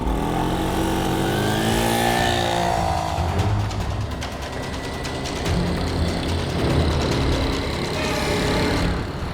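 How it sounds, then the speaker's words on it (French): Moped engines, including a Piaggio Ciao, scream at full throttle, rising and falling in pitch as they pass, loud and close with gusty wind noise in the background. "les pilotes vont connaître les bourrasques du vent et la fureur des moteurs à plein régime"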